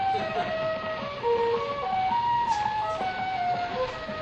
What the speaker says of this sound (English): that's music from an opera called Le Cloche de Corneville